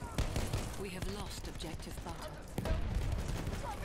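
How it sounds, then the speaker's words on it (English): Rapid bursts of gunfire from a gunner in the video game Battlefield 1, crackling in a dense, busy mix of shots and game noise with voices talking through it, louder toward the end. "He's shooting at something."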